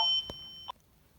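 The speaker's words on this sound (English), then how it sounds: "You probably just heard the phone call" A short electronic phone ring: two steady tones sound at the start, then a brief burst follows shortly after. The ringing is close and clear over an otherwise quiet room, with no talking.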